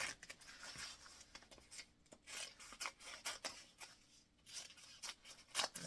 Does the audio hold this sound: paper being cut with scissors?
yes